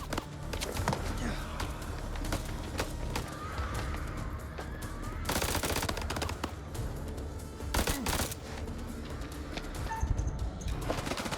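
Video game gunfire rattles in rapid bursts and scattered shots over a busy mix of game sounds, with people talking throughout.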